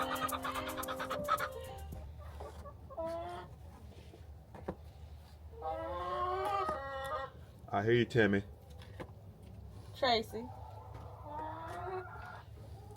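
Chickens cluck and squawk in short bursts around hay on a farm, close and intermittent over a low steady hum, with people talking between the calls.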